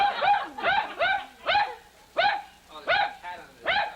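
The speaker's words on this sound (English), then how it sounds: "there's the dog" A dog barks repeatedly at close range, sharp yapping barks in an uneven rhythm with short gaps between them.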